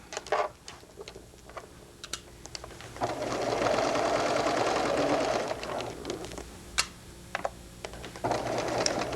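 A sewing machine stitches a sweater in a fast, steady mechanical whir lasting several seconds, framed by sharp ticks and clicks of adjusting and positioning before and after, close and clear.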